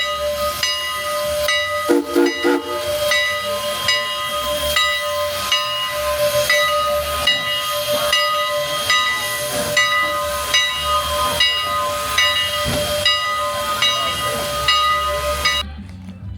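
A steam train at Lancaster station gives off a long, steady hiss with sustained whistle-like tones layered above it, loud and continuous for several seconds before cutting off abruptly near the end.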